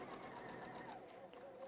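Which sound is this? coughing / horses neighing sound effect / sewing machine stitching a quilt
sewing machine stitching a quilt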